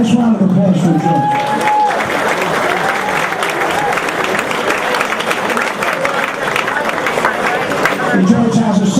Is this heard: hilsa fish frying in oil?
no